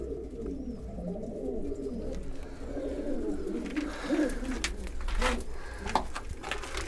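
Pigeons coo steadily inside a pigeon loft, a continuous layered murmur of several birds close by, with a few faint rustles and no talking.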